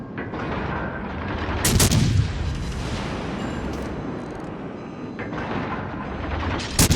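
Cruiser München fires its guns at a Nelson battleship in the naval combat game World of Warships Legends, sharp loud salvo booms over a constant rumbling background, with a few bursts spaced through the clip.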